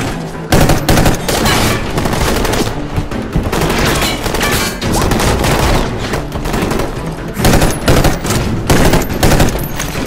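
Sustained automatic gunfire from a shooting video game, loud, close and nearly continuous bursts with heavy booming shots layered over one another for the whole stretch.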